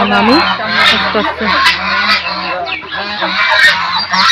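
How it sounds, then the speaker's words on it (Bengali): A flock of village ducks keeps up a dense, continuous run of harsh, honking quacks, loud and near, with calls overlapping throughout. "হাঁসের কি অবস্থা"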